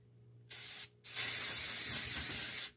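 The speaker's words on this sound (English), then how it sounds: "using the cooking pan spray." Cooking pan spray hisses from an aerosol can in two bursts, a short one followed by a longer steady spray, close and clear in a quiet kitchen.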